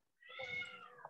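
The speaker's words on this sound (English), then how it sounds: "If you hear a cat right now, forgive me, that's my cat." A cat meows once outdoors, a single drawn-out, rising and falling cry heard at moderate distance, fairly clear against a quiet background.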